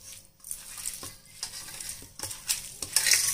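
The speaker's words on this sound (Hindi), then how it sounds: "हम इसको हाथ में मसल लेंगे।" Fresh chhena being kneaded and mashed by hand for homemade rasgulla, producing a run of soft, close, irregular squishing and rubbing bursts that grow busier toward the end, with no talking.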